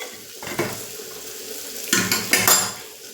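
A metal strainer net is set down in a kitchen, bringing a few sharp clanks and rattles of metal against cookware, with quieter scraping between the hits, close and with no talk.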